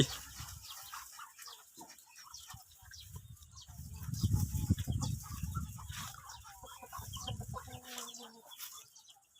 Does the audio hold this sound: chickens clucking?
yes